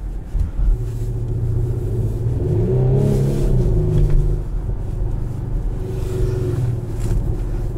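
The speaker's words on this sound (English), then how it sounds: "It's a twin turbo V6. Man, does it have power and torque." A 2018 Audi SQ5 Premium Plus with a twin-turbo V6 pulls hard, its deep engine rumble swelling and easing over several seconds, close and steady under cabin noise.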